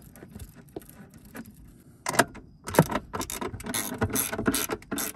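Close, repeated metallic ratcheting clicks from a ratchet tool threading a battery hold-down bolt back in on a Mercedes ML350, in short uneven bursts that grow busier and louder partway through, with no talk.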